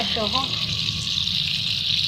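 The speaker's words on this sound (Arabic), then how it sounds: "ملي تشوفوا الزيت احمر راه غير تحميره في الحوت" Fish fries in hot oil, giving a steady, close, hissing sizzle throughout while someone speaks briefly at the start.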